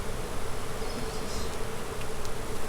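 Honey bees from a Carniolan colony hum steadily in a dense, continuous buzz during an open hive inspection, close and loud with no pauses.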